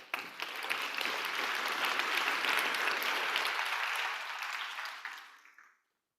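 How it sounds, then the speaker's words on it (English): An audience at a youth forum opening ceremony applauds to welcome a woman moderator, a dense, steady round of clapping that holds for about five seconds before fading out and stopping. "A round of applause for her."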